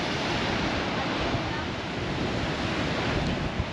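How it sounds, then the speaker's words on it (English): Ocean waves crash and roar continuously at an Australian beach, a dense broad wash of surf with wind rushing across the microphone, steady and fairly loud throughout. "The power of the sea."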